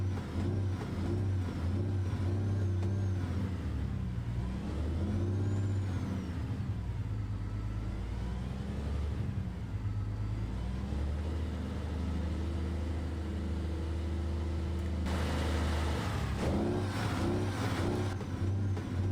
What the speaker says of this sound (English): Did they get the sound accurate? Or is it too open pipey? For this truck, it doesn't matter.